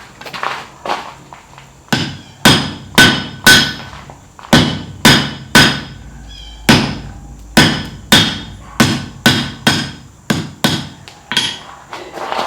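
Hammer blows on hot steel bar over an anvil with a cutting hardy, forging a leaf: loud ringing strikes in quick rhythmic bursts, about twenty impacts with brief pauses, close and alone.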